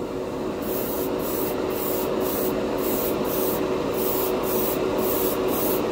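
An airbrush hisses steadily while spraying clear candy paint onto a Gundam plastic model kit, with a constant close airflow broken by regular short bursts.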